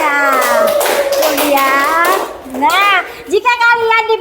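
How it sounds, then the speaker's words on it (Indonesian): Children in a fourth-grade classroom clap their hands together in a quick burst while a teacher speaks over them in a lively, singsong voice, with the clapping fading as the talk continues. "Hebat, tepuk tangan dulu dong untuk kita semuanya"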